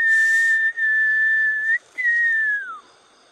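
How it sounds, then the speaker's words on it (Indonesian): Whistling during a ghost hunt, heard as one long sustained tone that dips at the end, then a short break and a second long falling whistle, clear and close over faint background. "Siulan maut mulai keluar."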